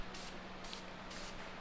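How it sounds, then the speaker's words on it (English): Grease spray is squirted into shot glasses in three short, even hissing bursts against a steady background hiss, with no voices. "Grab yourself a grease spray."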